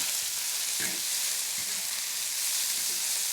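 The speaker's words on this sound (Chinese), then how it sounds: "倒油进去，大蒜、干辣椒，爆香了之后，豆芽、蒜芽，炒起" Garlic, dried chili and bean sprouts frying in hot oil in a wok, heard as a steady close sizzle with a few soft stirring knocks, and no talking.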